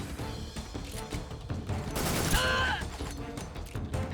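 Tranquilizer-gun fire in the stealth video game Metal Gear Solid 3: a sharp shot with a brief mechanical ring over a busy bed of game ambience and music, fairly loud, no voices.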